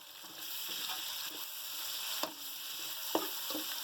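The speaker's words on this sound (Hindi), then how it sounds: "ये हमारे पास 2 चम्मच मिर्चें हैं, ये अब इसके साथ हम फ्राई करेंगे।" Chilies fry with ginger and garlic in hot oil, giving a steady, faint sizzle with occasional soft stirring clicks and scrapes, close by and with no talking.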